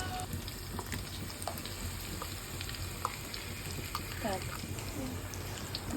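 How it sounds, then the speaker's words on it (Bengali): Ginger, garlic and onion paste fries in oil already seasoned with whole spices, producing a soft, steady sizzle with light spatters, fairly faint and continuous. "তেলের ভিতর এখন দিয়ে দিব পরিমাণ মতো আদা রসুন বাটা পেঁয়াজ বাটা"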